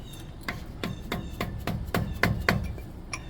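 Hammer striking a chisel to break loose a seized brake part on a Winnebago RV, a run of about nine sharp metallic taps at a steady rhythm, close and moderately loud with no talking.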